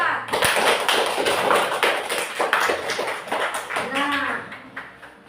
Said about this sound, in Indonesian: Coba berikan aplaus dulu untuk kelompok 1,